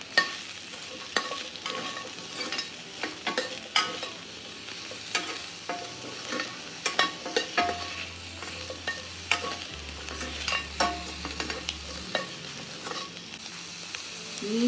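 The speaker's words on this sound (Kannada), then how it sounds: "ಸೊ ಈಗ ನಾನು ಮತ್ತೆ ಒಂದು ಸ್ವಲ್ಪ ತುಪ್ಪ ಹಾಕೋತಾ ಇದ್ದೀನಿ. ಆ್ಯಂಡ್ ಮಶ್ರೂಮ್ಸ್ ಹಾಕ್ತಾ ಇದ್ದೀನಿ." Mushrooms fry in ghee in a pan, a soft steady sizzle broken by repeated scraping and clacking as a utensil stirs them, close and fairly quiet, with no talking.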